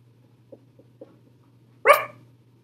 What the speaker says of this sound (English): Alright, that's my doggy.